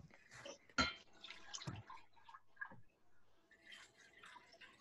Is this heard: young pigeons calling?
no